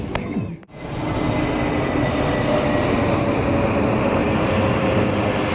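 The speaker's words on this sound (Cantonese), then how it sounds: "呢度就係咁啦，係咁啲飛機升降啊" A loud, steady roar from an airplane taking off or landing close by fills the whole stretch. It starts with a brief dip and then holds a continuous broadband jet rumble.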